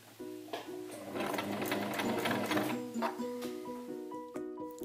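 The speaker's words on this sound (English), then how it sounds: "The machine will pull it through to the back automatically." A sewing machine stitches fabric in a continuous, fairly loud whirring run lasting several seconds, with a steady mechanical rhythm and a brief slowdown near the end.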